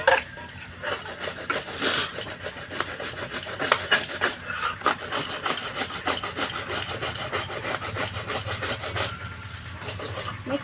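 Soaked kalai (biuli) lentils are rubbed by hand for badi, giving a continuous gritty, scraping rasp with rhythmic strokes, fairly close and unaccompanied by talk.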